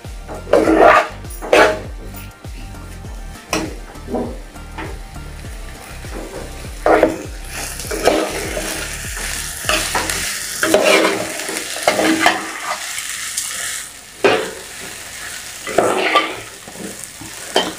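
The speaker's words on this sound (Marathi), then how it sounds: "गॅस मी कमी फ्लेमवरती ठेवलेला आहे, व्यवस्थित सगळं मिक्स करून घ्यायचं आहे" Spicy khichdi stirred and mixed in a pan over a low flame, with repeated scraping and clattering spoon strokes over a soft sizzle, close and fairly loud, plus brief background noises resembling a dog's bark.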